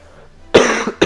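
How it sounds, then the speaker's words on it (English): Two sharp, loud, close coughs from a streamer, the first longer and rougher, the second shorter, after a quiet moment. "I'm sorry you guys have to listen to all this coughing"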